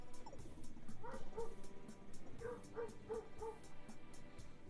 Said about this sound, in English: I wonder if you can hear my dog barking outside.